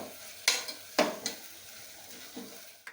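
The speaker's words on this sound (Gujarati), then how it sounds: "હવે આપણે આ દૂધી ખમણી તે નાખશું, એની આપણે 2 મિનિટ ધીમા ગેસે સાતરી લઈશું।" Grated bottle gourd sautéed over a low flame, a quiet sizzle broken by a few sharp spoon scrapes and clinks against the pan as it is stirred.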